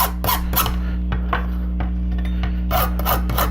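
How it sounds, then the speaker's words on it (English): Straight metal file rasping burrs off a metal part, in steady back-and-forth strokes close up over a constant low electrical hum, with no talking. "I'm going to just get all these burrs off of this with a straight metal file, like this"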